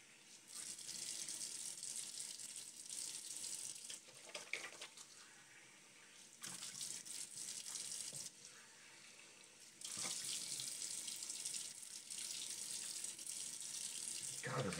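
Water runs from a tap into a sink while something slick is rinsed off, a steady hiss broken by short pauses and changes as hands move under the stream, close and fairly quiet.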